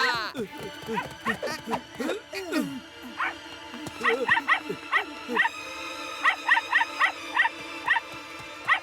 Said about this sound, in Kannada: ಅಯ್ಯೋ, ನಾಯಿ ಬೇರೆ ಬಂದ್ಬಿಡ್ತು.